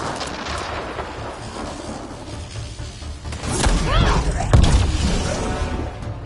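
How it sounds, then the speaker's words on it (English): Lightning striking a shuttle in a video game during a storm: a steady rumbling wash of game noise swells into a deep, booming crack and rolling thunder-like impact, with bits of voice in the mix. "Lightning zapped their shuttle!"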